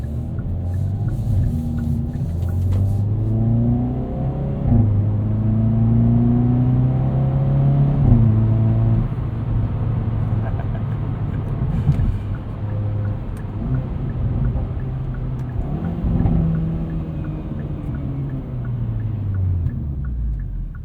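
A 2021 Hyundai Veloster N DCT hot hatch revs its engine, the exhaust rising and falling through several loud, sweeping pulls with a steady drone between them.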